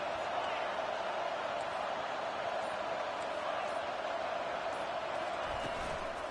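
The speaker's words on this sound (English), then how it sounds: "Listen to this crowd just shaking the girders of this place" A packed college football stadium crowd roars steadily in College Football 25, a dense, distant wash of noise holding constant throughout with no breaks.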